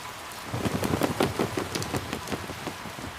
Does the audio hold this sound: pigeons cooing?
no